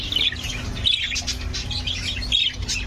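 A lovebird hen in an aviary gives a run of high, shrill chirps and squawky tweets over a low room hum, steady and fairly close.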